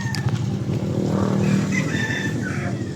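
Motorcycles passing close by on a street, a loud continuous engine roar rising and falling, with a rooster and other faint background sounds.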